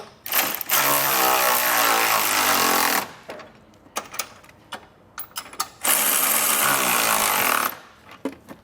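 A ratchet wrench tightens trailer hitch bolts on a 2024 Kia Telluride, giving two long bursts of rapid, loud clicking separated by a few sharp metallic clanks and brief quiet.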